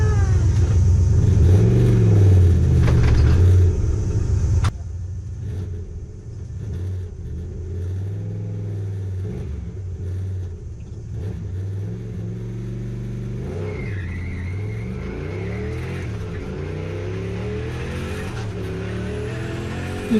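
A 1UZ turbo car on a drag run at Santa Pod: a loud, hard-revving engine roar that suddenly drops after a few seconds to a lower, wavering drone with rising and falling pitch sweeps, heard from inside the car.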